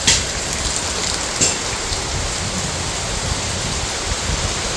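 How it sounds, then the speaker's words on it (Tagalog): Steady heavy rain pours down on a hut in a dense, continuous hiss, with a couple of brief louder splashes near the start. "Lakas po ng ulan."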